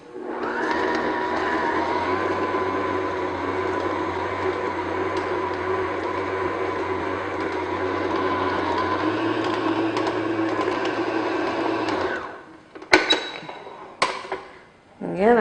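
An electric mixer beats New York cheesecake batter of cream cheese, sugar and flour on medium speed, a steady whirring hum with a low motor drone for about twelve seconds, followed by clattering handling noises.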